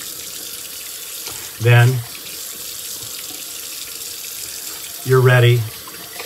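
Water runs from a bathroom tap in two short bursts while the face is rinsed after oil is applied, ahead of a straight razor shave. Someone speaks between the bursts.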